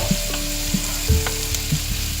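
Chopped pepper and onion frying in a pan, a steady close sizzle with occasional stirring clinks and scrapes, no voices.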